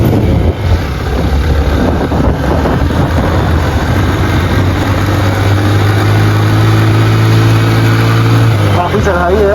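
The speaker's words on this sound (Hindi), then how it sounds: "यूनाइटेड कंपनी का CD70 है, 3 बंदे इस पे सवार हैं, और बड़ी हिम्मत है मोटरसाइकिल की जो जा रहा है" A United CD70 motorcycle carrying three riders labours up a steep hill, its small engine droning steadily and loud up close with a rising, strained tone.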